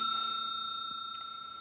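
A bright bell chime rings out alone, clean and sustained, fading slowly as a notification-style sound effect.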